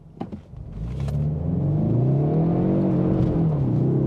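A turbocharged 2024 Ford Mustang EcoBoost with performance exhaust revs up and accelerates hard, its deep exhaust note rising steadily into a loud, sustained growl after a few clicks.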